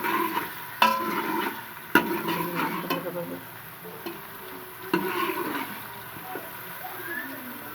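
Garlic, ginger and leaves fry in a pan, giving a soft sizzle broken by a few sharp clacks of a utensil against the cookware.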